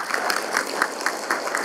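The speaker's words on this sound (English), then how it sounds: "Please give them a big round of applause once more." Audience applause for award recipients at a leadership and service awards event: a burst of crowd clapping with regular, rhythmic accents, moderately loud and brief.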